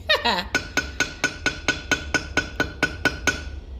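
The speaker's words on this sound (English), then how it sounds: "This is just a light, controlled hammering." Light, controlled hammer taps on a metal cuff bracelet set with Nigerian citrine, about a dozen crisp ringing metallic strikes in a steady even rhythm, close and clear with no talking.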